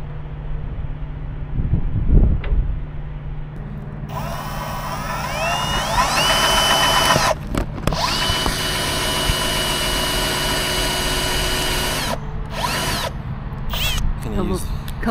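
Power drill boring into metal, whining loudly and steadily with brief pauses and pitch shifts as the bit bites, close by; a voice talks briefly near the start.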